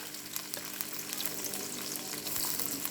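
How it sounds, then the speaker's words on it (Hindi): Onions frying in hot oil in a pan for a white chickpea dish, a steady close sizzle with crackling spatters that runs throughout, with no talking. "और ये गर्म हो गया, अब हम इसमें प्याज ऐड कर देंगे।"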